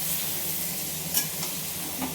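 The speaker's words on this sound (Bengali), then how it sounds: "এবার পেঁয়াজটা আলুর সাথে ভালো করে নেড়ে চেড়ে নেব।" Chopped onion and potatoes are stirred in a hot pan, giving a constant soft sizzle with occasional scraping clinks from the spatula.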